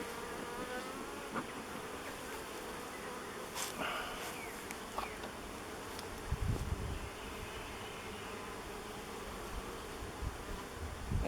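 Honeybees buzz steadily around a beehive frame during a hive split, a constant close droning hum with occasional louder passes of individual bees and light handling knocks.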